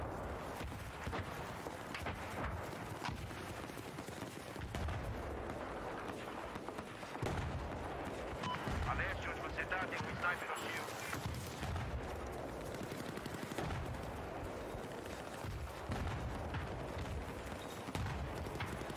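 Mortar fire in Battlefield 4 rumbles through a continuous dense battle soundscape, with deep thuds and scattered gunshots layered over one another at a moderate distance, no single blast standing clearly apart.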